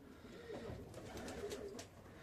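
Black-copper pigeons coo softly in a loft, a few faint, brief throaty calls over a quiet background.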